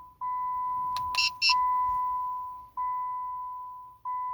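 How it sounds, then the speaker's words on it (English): Steady electronic tones from a 2005-2007 Jeep Grand Cherokee confirming successful key fob programming: a long sustained beep, a short break, then two more long beeps, clear and alone in a quiet cabin. "wait for a few seconds until you hear the beeping sound indicating programming is successful"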